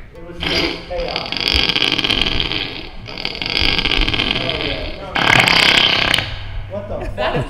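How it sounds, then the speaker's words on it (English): A guitar fart effect pedal puts out long, buzzy, rasping blurts, loud and close, that rise and cut off in bursts. People talk and laugh over them. "That's my fart pedal, bro."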